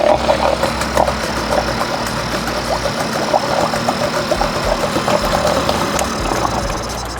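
A small Mercury 3.3 HP outboard motor idles steadily with the throttle down and the choke open, running the old fuel out of its carburetor. It gives a continuous close, loud putter with a rapid knocking pulse and no talk.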